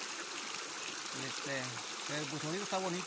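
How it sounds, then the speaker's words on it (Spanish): A small waterfall runs after rain, a steady rush of flowing water heard close throughout while a person speaks over it. "Pero ahí está la cascadita."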